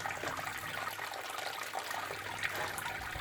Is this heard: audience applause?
no